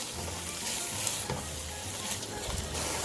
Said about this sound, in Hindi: और अब मैं इसे अच्छी तरह इसकी भुनाई करूंगी।